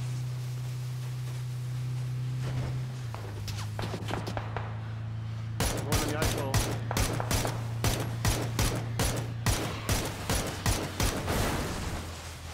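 Gunfire in the Vikendi map of a shooter video game comes first as a few scattered shots over a low steady hum, then as rapid bursts of sharp, close cracks that repeat in quick volleys.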